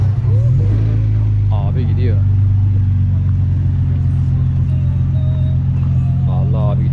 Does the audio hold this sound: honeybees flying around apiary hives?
no